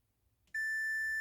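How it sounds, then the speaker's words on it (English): A multimeter gives a sudden, steady continuity beep while checking the fuses of a Sansui SR-525 receiver, a single clean electronic tone that starts after a brief quiet moment and holds to the end. "we're just going to check to see if we got continuity here on these fuses"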